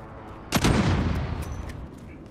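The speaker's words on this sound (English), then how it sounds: "I'm gonna do an airstrike" Sudden heavy blast from an airstrike in a squad shooter video game, a loud boom at about half a second that rolls into rumbling gunfire-like crackle and fades over the next two seconds, with no voices.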